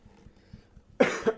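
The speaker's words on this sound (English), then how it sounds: "Here is something you never do in public anymore. Coughing." A single sharp cough bursts out close to the mic, followed by a second smaller cough, after a second of near silence.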